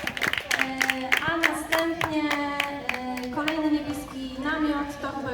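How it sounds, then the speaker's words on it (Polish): Hands clap in a regular beat at a DAMrocka workshop gathering, sharp distinct claps under a prominent singing or chanting voice, moderately quiet overall. "Brawa dla nich."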